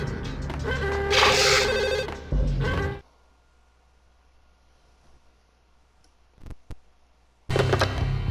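A telephone rings in the video game Max Payne, a loud electronic ringing burst that stops abruptly, then near silence with a couple of faint clicks before the sound returns.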